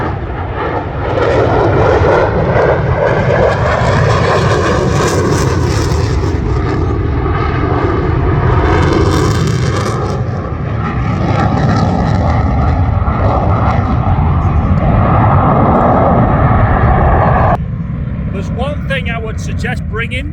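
Fast jet aircraft at the Royal International Air Tattoo 2024, flying at nearly full speed down the runway just below the sound barrier, a loud sustained roar that swells and fades with shifting pitch before cutting to quieter crowd ambience.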